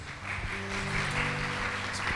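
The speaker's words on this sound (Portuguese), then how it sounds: "Peço aplausos de todos." Applause from the audience at a Mother's Day special event in Lagoa, a steady wash of clapping lasting about two seconds, with sustained tones humming underneath.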